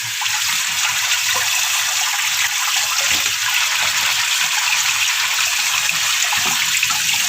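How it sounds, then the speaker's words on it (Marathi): Tap water runs steadily and fairly loudly over black peas being rinsed in a kitchen, a continuous rushing gush with no pauses. "मी आता नळाखाली"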